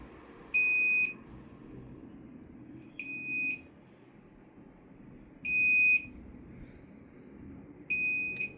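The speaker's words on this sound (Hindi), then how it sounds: "सो 4 बार आपको ये बीप करके नोटिफाई करेगा 4-5 बार कि भाई पावर कट हो गया है।" An OKAYA home inverter sounds its power-cut alert after the mains supply is switched off: four evenly spaced, shrill electronic beeps about every two and a half seconds over a quiet background.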